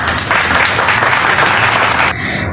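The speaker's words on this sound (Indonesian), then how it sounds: "Beri tepuk tangan adik-adik" A class of schoolchildren in an Indonesian classroom claps loudly and steadily for a classmate's presentation, then the applause stops abruptly.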